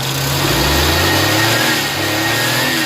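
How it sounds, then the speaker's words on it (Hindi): A parked Suzuki Mehran's engine revs steadily and loudly at full throttle up close, a continuous droning roar that holds its pitch throughout with no voices. "खड़ी गाड़ी को आपने एक्सीलेटर देना है"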